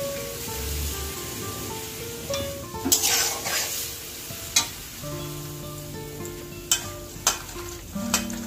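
Small river fish, bori lentil dumplings and tamarind water sizzle and bubble in a wok for a Bengali sour fish curry, a steady close hiss broken by several sharp spatters and pops, no talking.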